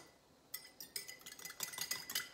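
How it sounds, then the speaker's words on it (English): A small whisk beating garlic, salt and pepper in a bowl, quiet at first, then quick irregular metallic clinks and scrapes building over about two seconds, close and fairly soft. "And then I just use a little whisk"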